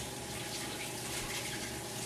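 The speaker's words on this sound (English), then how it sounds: "It's no touch faucet." Steady water streams from a no-touch kitchen faucet in a home kitchen, a continuous close hiss and splash with no breaks and no talking.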